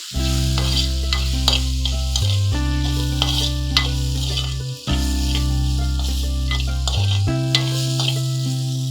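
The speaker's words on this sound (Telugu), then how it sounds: "ఇప్పుడు ఒక్కసారి కలుపుకొని" Oats mixture with salt being stirred in a hot pan, a steady sizzle of frying under repeated scraping strokes of the spoon, close and continuous with no talking.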